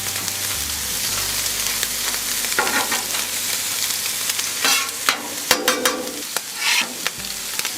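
Onions and peppers being stirred on a hot breakfast griddle beside bacon and hash browns, a steady broad sizzle with intermittent scraping and clacking of a spatula, loudest toward the end, no voices.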